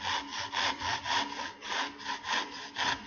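A tenon saw cuts into wood for a dovetail halving joint, with steady back-and-forth strokes about every third of a second, close and clear with no talking.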